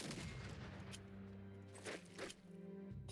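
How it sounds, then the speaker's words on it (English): An artillery strike in the war strategy game Unity of Command 2 erupts as a quick burst of booming blasts and crackling gunfire, fairly faint and layered over steady background game music. "Artillery strike."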